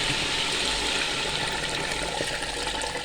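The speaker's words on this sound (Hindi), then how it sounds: "अब हम इसमें अपनी यखनी शामिल कर देंगे जो अलग की थी हमने" Beef stock (yakhni) poured into a pot of beef paya, a steady continuous gush of liquid, close and fairly loud, with no talking.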